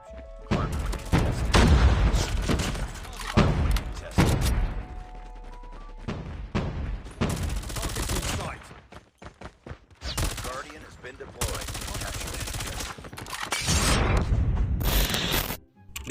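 Rapid bursts of FFAR assault rifle fire in Call of Duty Mobile, loud repeated volleys with short pauses between them, mixed with in-game explosions, mechanical clatter and other game effects.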